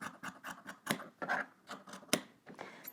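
Scissors trimming fabric on a blazer facing, a quick run of close, crisp snips and slicing cuts at an uneven rhythm, quiet, with no talking.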